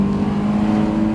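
A Honda S2000 engine runs steadily at low revs around 2,000 rpm on a drive in Japan, a loud, even drone with a deep humming tone and no voices.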